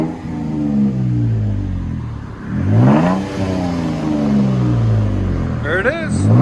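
A Toyota Tacoma 3.5L V6 with an aftermarket Black Widow or Borla exhaust revs up and falls back several times, loud and close, with a voice speaking over it.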